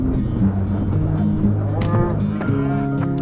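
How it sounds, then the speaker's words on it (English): Shaggy Highland cattle low in a deep, drawn-out moo on the Isle of Skye in Scotland, loud and close over a steady outdoor rumble, with a second rising call near the end. "They're also known as Highland cattle."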